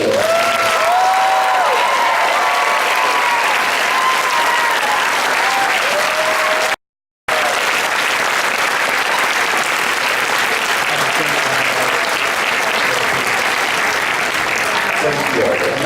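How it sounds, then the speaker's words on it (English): Sustained loud applause from a crowd at a costume contest, a steady wash of clapping with a few scattered cheers, briefly cut by a short silence midway. "Can we have one round of applause for all of them?"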